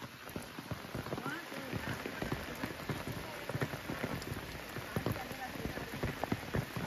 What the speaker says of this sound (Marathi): भरपूरच पाऊस लागायची सुरुवात झाली